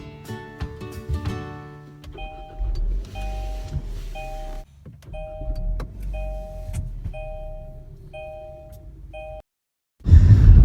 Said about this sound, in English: It's the 2017 Kia Sportage SX. So let's go for a drive.